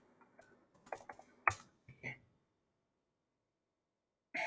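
Scattered clicks and taps on a computer keyboard, close and fairly quiet, come in short irregular bursts, followed by a long silence and one final burst of sound.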